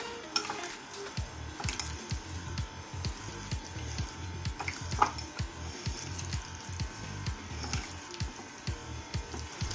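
Chicken pieces worked by hand through a marinade for a crispy chicken fry, giving a steady run of close, wet squishing and slapping sounds with soft clicks, repeating rhythmically for the whole stretch.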